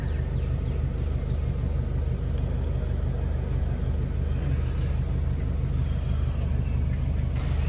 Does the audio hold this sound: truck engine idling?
yes